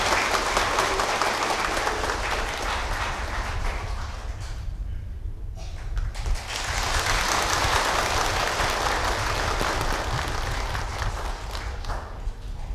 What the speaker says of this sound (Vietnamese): Xin cộng đoàn chúng ta nổ một tràng vỗ tay.